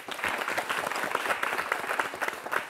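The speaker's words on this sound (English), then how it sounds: "Another round of applause for both the first speakers" Spectators at a debate final applaud the first speakers, a lively, fairly close patter of many hands clapping continuously with small surges, no voices over it.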